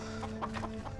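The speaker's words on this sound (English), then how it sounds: "Fucking chickens." Chickens cluck close by in a steady run of short, throaty calls over constant background noise, fairly faint, with no talk.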